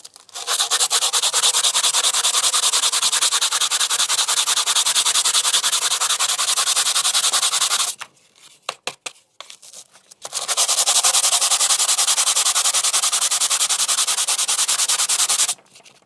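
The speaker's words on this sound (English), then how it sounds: "Then I use how do you say sandpaper to make it smoother." Sandpaper rubs a piece of pumice stone being shaped into an earring in a fast, steady scratchy rasp, loud and close, stopping briefly for a few short strokes midway before resuming.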